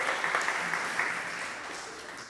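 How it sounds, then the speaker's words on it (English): A church congregation applauds during a service for the organist and the bell choir: a steady, moderately loud wash of clapping that holds evenly for a couple of seconds and tapers slightly at the end. "let's give her a round of applause for all the beautiful work she does"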